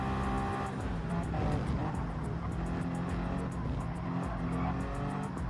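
Race cars in a Le Mans endurance racing video game, a steady roar of engines with cars passing by and brief tire squeal, loud and continuous throughout.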